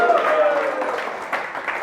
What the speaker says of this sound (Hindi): आइए जोरदार ताली बजा के उस खुदावन यीशु मसीह को धन्यवाद करें, चिल्लाते हुए ताली बजा।